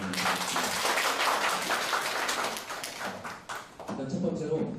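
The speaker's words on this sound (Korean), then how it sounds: "박수는 이럴 때 한번 쳐주시면 됩니다" A lecture audience at a library talk bursts into a dense wash of clapping that fills the whole moment, steady and close, dipping briefly before swelling again.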